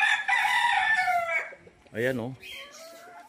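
A caged rooster at a game farm in Bauang, La Union crows loudly and close, followed by a short throaty cluck from the chickens, with someone speaking briefly.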